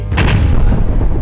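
An explosion sound effect goes off in a comedy sketch: a sharp, loud boom with a short burst followed by a rumbling low tail, heard alone.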